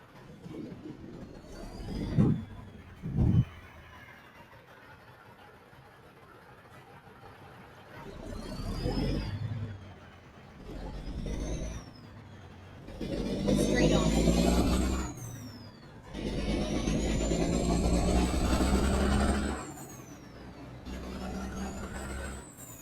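Truck engine in American Truck Simulator, a low rumbling drone that swells and fades in several long passes, with air brake hisses and whirring, near and moderately loud, with speech in places.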